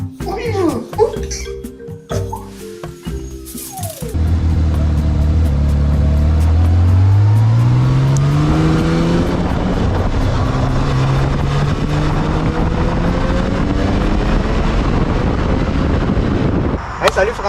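A motorcycle revs and pulls away, its engine pitch sweeping up strongly and then holding a loud, steady ride. Voices and scattered noises come first.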